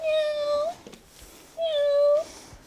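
A robotic toy cat gives two drawn-out electronic meows about a second apart, close and clear, with quiet handling sounds between them.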